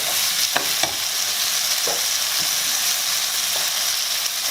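Crab meat stir-fried with chillies on high heat gives a steady, close sizzle, with a spatula scraping the pan now and then and no talking.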